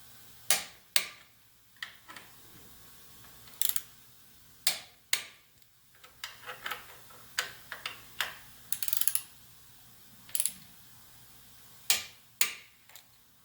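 A torque wrench works on the brake lever bolts of a BMW K1600 bagger motorcycle, giving sharp, close metallic clicks in irregular bursts with short quiet gaps between.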